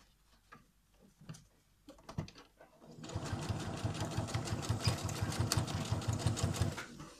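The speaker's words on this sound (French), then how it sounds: "je sors mon surjet." A serger overlocker finishes the edges of a zippered cushion cover. Faint ticks and handling come first, then the machine starts up into a steady, fast, close mechanical chatter that runs to the end.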